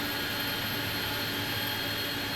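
An Airbus A300-600F cargo jet engine spools up during start in Microsoft Flight Simulator 2024, a steady, loud, broadband whine and rush that holds throughout.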